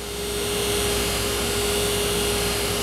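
A Henninger center hole grinder runs steadily, a constant high-pitched whine with a strong steady tone over broadband machine hiss, loud and unbroken throughout with no speech.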